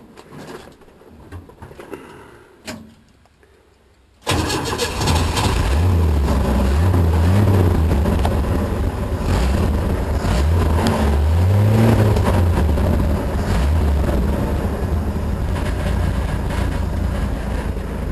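A rebuilt old pickup truck engine cranks, fires up and settles into a steady rumbling idle with loud low throbbing, after quiet background sounds; no talking.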